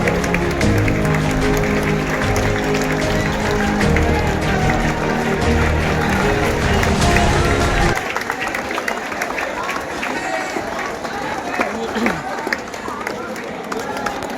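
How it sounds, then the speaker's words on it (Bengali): A crowd claps and cheers at a freshers' welcome program. Dense, sustained applause fills the first half, then thins to a lighter patter with voices talking over it. "হাততালি সম্বর্ধনা করছে।"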